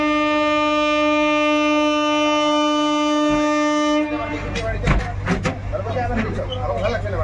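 A special train moves slowly on the Nashipur line between Murshidabad and Azimganj during track work at a rail gate. A sustained, close horn blast sounds for about four seconds, then gives way to a rougher rumble with voices nearby.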